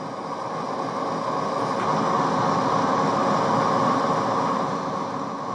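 A CSX freight locomotive hauls a coal train in Train Sim World with a steady, loud diesel rumble and a continuous rolling drone, moving slowly under speed control on Sand Patch Grade.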